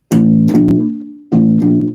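Plucked bass guitar open-string pickup notes in a 12-bar blues walking bass line, two sharp attacks with a sustained low open-string tone ringing between them, played alone and close.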